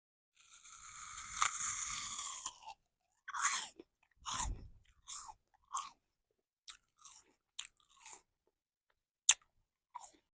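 Close, quiet crunching and chewing of fresh fruit in an ASMR setting: a longer crisp bite at the start, then a series of short separate crunches and mouth sounds with silent gaps between them.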